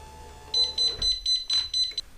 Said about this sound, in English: when I was operating the chair up and down, you heard a lot of beeping noises